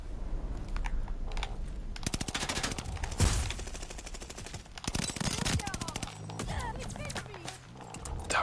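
Sustained automatic gunfire in Call of Duty, rattling bursts and overlapping shots that run almost continuously. It sounds loud and dense, with game effects mixed in and a player talking throughout.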